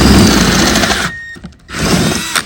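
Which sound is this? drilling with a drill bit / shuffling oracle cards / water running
drilling with a drill bit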